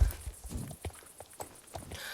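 Horse hooves clip-clopping in the video game Star Stable, a run of light, evenly spaced hoof steps walking at close range with no voices over them.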